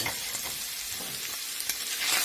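Salmon pasta is stirred in a frying pan, with a continuous bright sizzle and soft scraping of the utensil through the food, close and steady with no voices.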